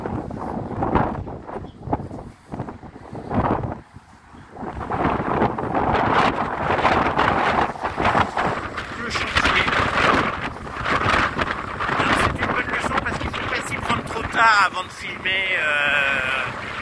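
Wind gusts buffet the microphone outside near a building about to be demolished in Le Havre, a loud rumbling roar that surges and fades in uneven bursts, with a person speaking underneath at times.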